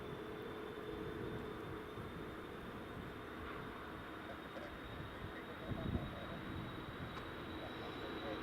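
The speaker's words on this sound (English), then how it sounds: "WestJet is just departing now as well." A WestJet airliner departs Edinburgh Airport, a steady broadband roar at a distance with a faint high whine, holding level throughout with a small swell near the middle.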